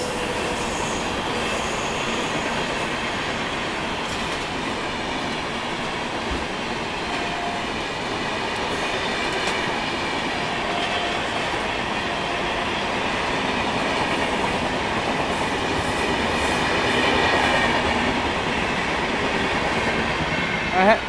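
A fast express train rushes past alongside the Magadh Express, a steady loud roar of wheels and rail noise that swells slightly near the end, with a faint high squeal.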